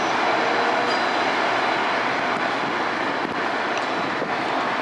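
A metro commuter train cab car rolls past close by, a steady loud broadband rumble and rail roar filling the whole stretch without pause, with no talking.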